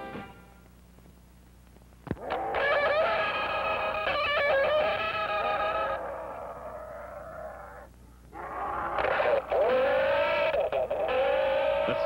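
A vintage Marx Sound of Power Astro Gun toy starts with a sharp click, then blares loud, warbling electronic sci-fi tones that hold for several seconds, dip briefly, and resume just as strongly.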